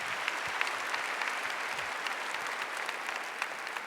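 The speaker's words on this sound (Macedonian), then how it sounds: "И аплаузот трае до 5 сабаја." Sustained applause fills an awards ceremony hall, a dense, steady clatter of many hands clapping at even loudness throughout, with no speech over it.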